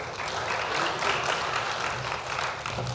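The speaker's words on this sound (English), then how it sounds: "Please, a round of applause." Audience at a forum on access to finance in Northeast Nigeria applauds a presenter being introduced, a sustained patter of many hands clapping, moderately loud and steady throughout, without voices on top.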